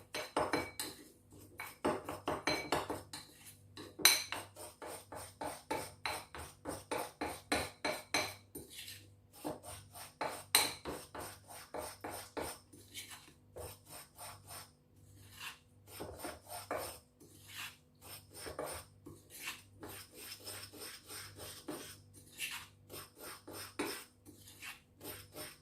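A tablespoon of starch being mixed in a bowl, a spoon scraping and clinking against the sides in quick repeated strokes that come in bursts with short pauses, close and quiet.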